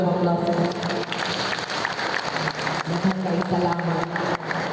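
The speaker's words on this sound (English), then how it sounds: "Can we give them a round of applause?" An audience gives a round of applause for photographers at a mountain tourism event. The clapping is dense and fairly loud, with a voice and some crowd noise mixed in throughout.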